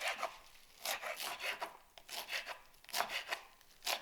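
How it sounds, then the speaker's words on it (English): A knife chops fresh coriander on a board for chapli kabab. The close, steady rhythm of crisp cuts comes in quick bursts, with no talking. "So now we're going to chop the coriander for some freshness."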